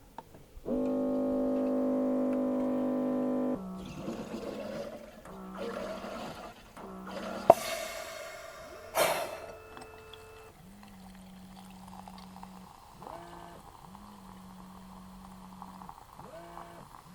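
A Sodastream Fountain carbonates water at the max CO2 setting. A loud steady buzzing hiss of gas injection is followed by clicks, a sharp burst, and then bubbling water with intermittent low tones.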